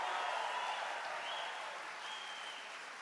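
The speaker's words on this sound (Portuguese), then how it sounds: "Pode aplaudir, pode fazer barulho." Church congregation applauding and cheering during a sermon, a steady broad wash of clapping and crowd noise that holds for a few seconds and slowly tapers, with no talk over it.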